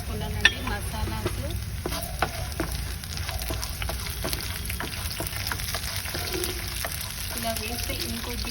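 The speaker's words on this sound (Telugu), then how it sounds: "ఇలా కొద్దిగా పచ్చిమిర్చి వేగనిద్దాం." Green chillies sizzle and crackle steadily in hot oil with cardamom, cinnamon and cloves, with occasional sharper pops and spoon stirs throughout, close and continuous with no talk.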